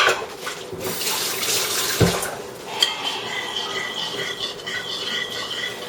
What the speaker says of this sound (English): I'm mixing this up with a spoon.